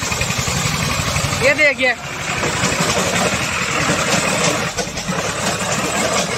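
Tractor engine roaring under heavy load, an old Eicher or Farmtrac pulling a loaded trolley, loud continuous low rumble with a strained pitch swoop; someone speaks briefly over it.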